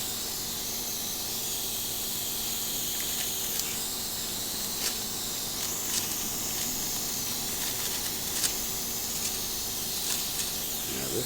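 An airbrush sprays white alcohol ink onto black Yupo paper as a steady, close hiss that stays level throughout, with faint clicks and small bursts over it and no talking.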